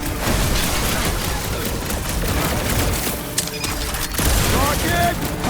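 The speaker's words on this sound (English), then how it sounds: "I hear way too much shooting!" Gunfire in a Marvel's Guardians of the Galaxy battle, with dense shooting and booms running throughout, mixed with characters shouting over the chaotic combat.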